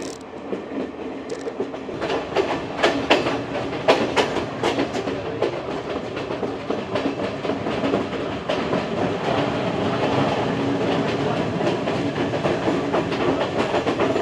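A passenger train running from Kandy to Colombo in Sri Lanka, steady rumble and rhythmic clatter of wheels on the rails throughout, fairly loud and continuous with no talking.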